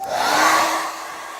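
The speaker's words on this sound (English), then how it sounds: "I blast it with a hair dryer on high heat" A hair dryer on high heat blasts loudly in a steady whoosh close to chalk-painted furniture, swelling briefly then easing off slightly as it keeps running.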